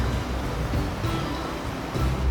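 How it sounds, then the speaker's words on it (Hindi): River water rushes against stones in Himachal's Tirthan Valley, a loud, steady broadband roar with no breaks. "ठंडी हवा और पत्थरों से टकराता पानी, ये है ट्रू थेरेपी।"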